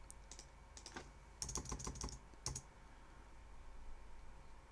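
Quick taps on a computer keyboard, a short scattered run of key clicks then a denser cluster, close and quiet, followed by near silence.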